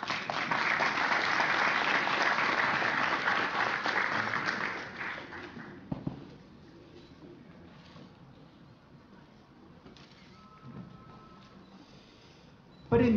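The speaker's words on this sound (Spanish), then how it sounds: "Un fuerte aplauso para él." An audience applauds an award recipient at a scientific merit awards ceremony, a full burst of clapping for about five seconds that then drops away abruptly to quiet room tone with faint stray sounds.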